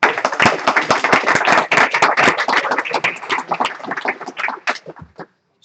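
Applause from a meetup audience at a machine learning event in Amsterdam, dense close clapping that is loud at first and thins out toward the end before stopping.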